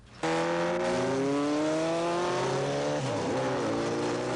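A racing-design street motorcycle, a bullet bike, accelerates hard on a late-1980s street. The engine note is loud, close and sharply rising, dips briefly, then climbs again through another gear.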